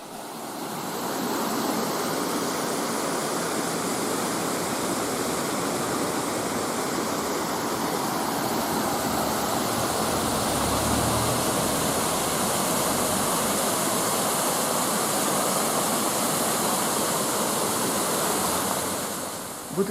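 Water tumbling down the Zhenetskyi Huk waterfall in the mountains, a steady, dense rushing roar that holds unbroken and close throughout.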